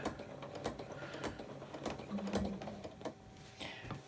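A home sewing machine stitches a quilting line on an apple core table runner, guided along a ruler. It runs in short, close, even bursts of rapid clattering with brief pauses and no talking.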